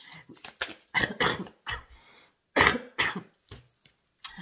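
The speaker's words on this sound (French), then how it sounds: "Peut-être que vous n'allez pas le dire parce que je tousse" A person coughs repeatedly in short bursts, close and fairly loud, with brief pauses between the coughs.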